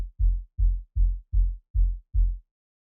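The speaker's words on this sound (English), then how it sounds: "So the plug sub bass sounds like this." A plug-style sub bass built from an LFO-shaped sine wave plays six evenly spaced deep, round pulses, alone and at moderate level.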